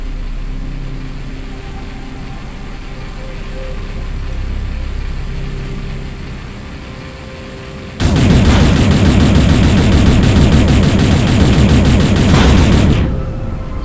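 Rapid, continuous weapon fire used for mining asteroids in the space video game Space Salvager: a loud, dense burst of shots that starts abruptly after a quieter stretch of low ambient hum and runs for about five seconds before cutting off.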